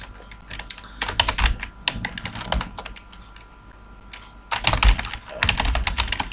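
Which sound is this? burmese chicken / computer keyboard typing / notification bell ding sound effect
computer keyboard typing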